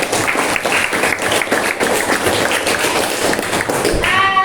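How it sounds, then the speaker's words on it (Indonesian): Classroom applause for a student presentation, with many hands clapping in a busy, steady patter for several seconds, close and fairly loud, before a voice begins speaking at the very end. "Jadi tepuk tangan sekali lagi untuk"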